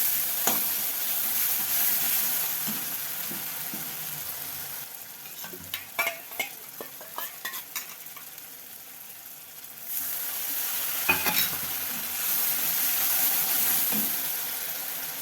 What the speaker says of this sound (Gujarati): સારી રીતે હલાવી નાખું